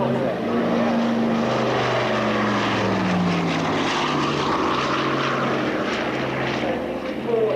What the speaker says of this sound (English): old airplane, but it is getting ready to start